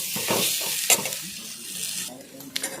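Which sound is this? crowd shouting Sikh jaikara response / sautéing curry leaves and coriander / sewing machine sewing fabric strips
sautéing curry leaves and coriander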